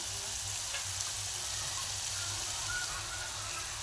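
Masala frying in oil for egg curry, a steady close sizzle with a faint low hum beneath it, continuous and even throughout.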